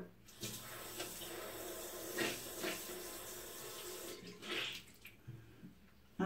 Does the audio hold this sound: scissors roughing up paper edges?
no